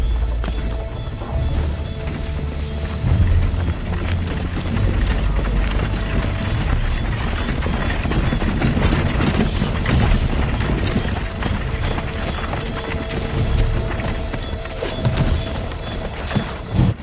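A horse gallops in the Assassin's Creed 3 video game, with dense, continuous hoofbeats and thuds mixed into loud, busy game action and ambient noise.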